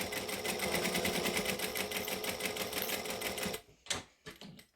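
A sewing machine stitches a fabric color book in a fast, steady run for several seconds, then stops and starts again in a few short bursts, close and clear.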